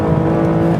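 Aston Martin DBS Volante engine pulling hard on track as it shifts up into third gear, a loud, steady, close-up exhaust roar with a dense, continuous drone and no talk.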